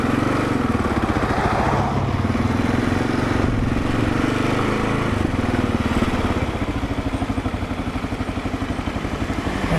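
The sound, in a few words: 2022 Kawasaki KLR 650 motorcycle engine while riding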